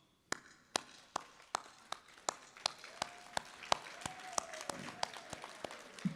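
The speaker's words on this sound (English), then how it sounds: "let's give them a round of applause." Clapping at a 2022 university commencement ceremony: sharp, evenly spaced claps at first, then growing busier and more irregular as more hands join, over a faint background hum.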